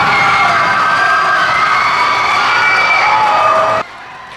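Basketball fans roar and cheer loudly and continuously at a championship-advancing playoff game, a dense, sustained crowd din that cuts off abruptly near the end.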